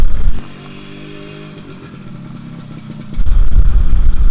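An original 1995 Yamaha RXZ motorcycle engine opens with a loud blip, drops to a smooth low idle, then revs hard again near the end, close and without talk.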